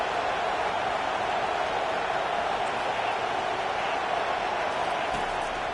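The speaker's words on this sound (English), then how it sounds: "Decibels rising as the crowd gets behind this defense on 3rd down." Stadium crowd at an Arkansas vs Mizzou college football game, cheering on a third down: a dense, continuous wall of roaring noise, loud and unbroken throughout.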